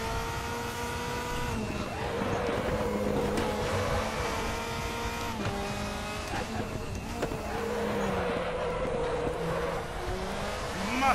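A race car oversteers in the RaceRoom sim at Zandvoort, its engine droning loud and steady with rising and falling pitch and a scrub of tire squeal as it slides.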